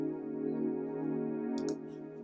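A steady, buzzy Serum wavetable synthesizer oscillator tone holds at one pitch, rich in harmonics, with a faint click near the end.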